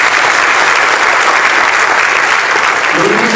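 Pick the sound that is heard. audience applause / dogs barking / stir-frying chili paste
audience applause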